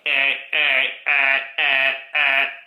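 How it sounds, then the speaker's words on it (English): An alarm clock beeps in five evenly spaced bursts, each a loud, shrill electronic tone about half a second long. "How angry are you in the morning, Natalie, when you wake up to an alarm that's like"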